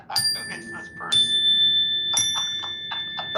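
Bells ring out in bright, sustained tones, struck again at intervals of roughly a second, amid a steady background of voices and bustle.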